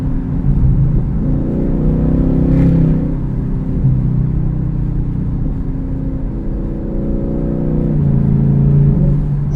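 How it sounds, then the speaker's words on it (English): A car fitted with a cold air intake accelerating, a steady deep engine drone with a whooshing intake note that rises and falls gently over nearly ten seconds, close and loud without talk. "I can hear the intakes breathing in"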